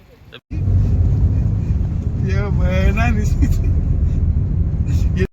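A car on the way to Kalyan station gives a steady engine hum and road rumble from inside the cabin, with people talking over the continuous drone.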